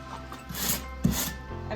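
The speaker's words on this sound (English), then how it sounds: "got me a sander at a garage sale that also happened to be purple" A purple power sander, bought secondhand, works over a surface in an unfinished basement, giving a steady close rubbing and rasping whir with a brief louder scrape partway through.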